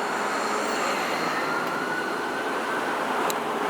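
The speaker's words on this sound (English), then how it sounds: "I hear some more sirens." Emergency sirens wail faintly in the distance over a steady background rumble of traffic near Upper Lachine Road and Girouard in Montreal.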